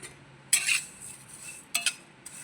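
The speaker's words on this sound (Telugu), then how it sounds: "సేమియా కూడా లైట్గా దోరగా వేయించుకుందాం" Vermicelli for semiya payasam is stirred while it roasts in a pan, with a few sharp metal spoon scrapes and clinks against the pan coming in short bursts over quiet, and no talking.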